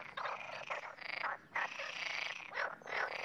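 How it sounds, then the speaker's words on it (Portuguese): Frogs croaking in spring on the Iberian Peninsula, a dense, raspy chorus of repeated calls in bursts with brief gaps, fairly close and steady. "As rãs coaxam soprando o ar dos pulmões pelas cordas vocais"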